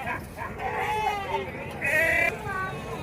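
Sheep bleat repeatedly at the Gudur sheep market, several wavering cries close by mixed with someone talking and general market noise.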